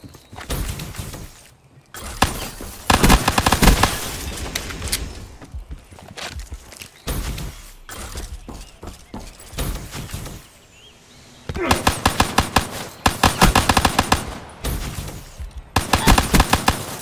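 Rapid bursts of pistol gunfire from a 1v1 Call of Duty Black Ops 3 match on the Nuk3town map, loud close shots in several clusters with short gaps between, along with game effects and occasional voice.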